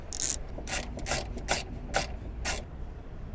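A ratchet tightens two M6 bolts into hand-threaded holes in a Ford Maverick truck bed while a ratcheting tie-down is installed. About six bursts of close, crisp clicking come at a steady pace, with no talk.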